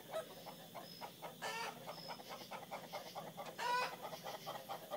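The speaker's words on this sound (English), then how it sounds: "darn wild chickens making noises." Several wild chickens cluck in short repeated bursts at a moderate distance, with a couple of louder squawks standing out over a quiet background.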